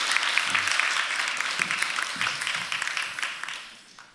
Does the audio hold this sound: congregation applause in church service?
yes